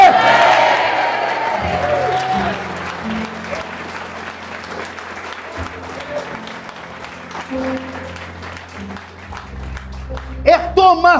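A church congregation applauds, the sustained clapping of a crowd fading gradually while someone speaks over it, ending with a brief burst of louder clapping.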